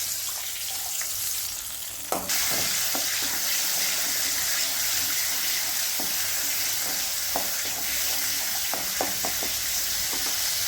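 A pan sizzles and bubbles steadily as a tamarind mixture simmers vigorously, with a sudden rise in hiss early on and occasional soft clinks.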